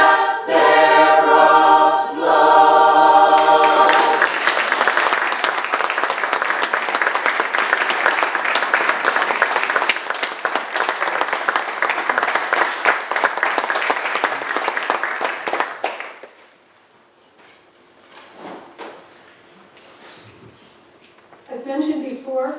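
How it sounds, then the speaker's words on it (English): Audience applause breaks out loudly after a musical passage with a sustained harmonic tone, fills most of the span as dense steady clapping, then stops abruptly, leaving a few faint scattered sounds before a brief return of noise. "'tis the part of the hearers to clap their applause"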